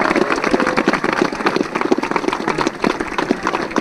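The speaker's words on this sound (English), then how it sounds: "Big round of applause, please, for silver medal winners" An audience at a rowing event applauds the silver medal crew from Christ College, a dense, steady patter of clapping hands that continues throughout.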